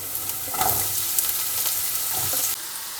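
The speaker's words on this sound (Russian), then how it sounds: "Отправляем жарить сначала лук и чеснок." Vegetable oil sizzles steadily in a hot pan as chopped onion and garlic fry, with occasional stirring scrapes and crackles, close and fairly loud.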